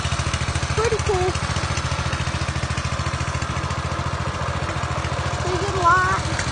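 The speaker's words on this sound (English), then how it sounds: "Pretty cool looking little mini bike." A Coleman mini bike's small engine idles up close with a rapid, even putter that holds steady throughout, while faint voices murmur underneath.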